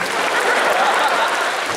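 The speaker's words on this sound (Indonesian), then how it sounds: "Tepuk tangan buat istri saya lagi" A live comedy audience applauding, dense steady clapping that fills the space loudly and evenly without pause.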